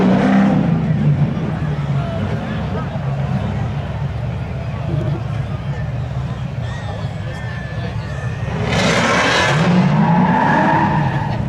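A Chevy Camaro and a 1997 Pontiac Firebird launch in spectator drag racing at Seekonk Speedway, with loud engines roaring and tires squealing, rising again near the end under an announcer's continuous commentary.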